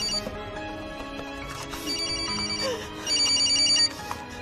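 Telephone ringtone from a Brazilian TV drama scene, repeating electronic rings at moderate loudness over faint background music, with no talk during the ringing.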